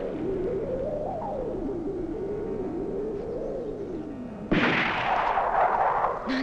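A musket-style gunshot outdoors in a rural Japanese period setting lands as one sudden loud crack partway through, after a stretch of steady background tone, and a dense ringing echo trails after it.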